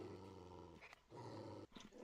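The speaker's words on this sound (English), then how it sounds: "The dog just went off." Hunting dog in theHunter: Call of the Wild reacting to a nearby puma, giving short, close growling barks in two bursts separated by a brief gap.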